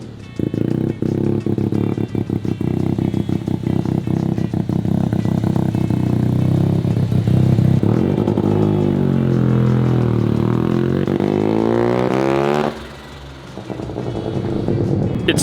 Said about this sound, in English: compressor surge noise, so now I'm super suspicious of that blow-off valve